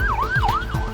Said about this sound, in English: The ambulance arrives for Nathan.